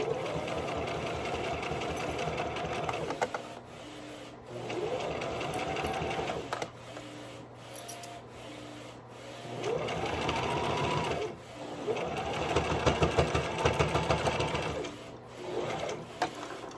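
A DTF printer runs in a home workshop, its print head shuttling back and forth in repeated whirring passes with rising and falling mechanical tones, steady motor hum beneath and short pauses between strokes.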